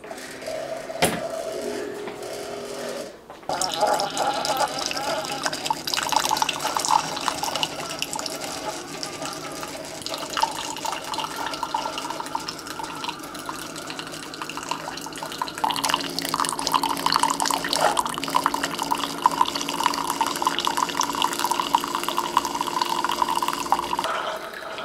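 A Keurig K Iced coffee maker brews 10 ounces on its strong setting, giving a steady close pouring and dripping hiss after a brief click and pause, continuing evenly and slightly louder toward the end.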